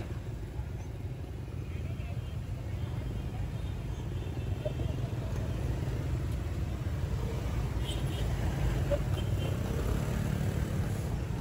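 Cars and motorcycles crawl through a jammed street beside a busy Vietnamese market before the New Year, producing a continuous low engine rumble with voices talking over it.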